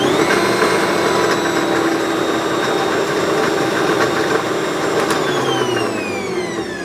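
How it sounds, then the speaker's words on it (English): An Ankarsrum mixer running with its flat beater, a loud steady motor whine with a gently falling pitch near the end, close and constant with no talking. "that spins round in the same way that a tilt head whisk spins round, but there's two paddles"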